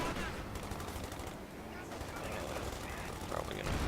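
Machine gun fire in a real-time strategy game: steady, dense rattling bursts running continuously under a busy wash of battle noise, fairly loud and close throughout.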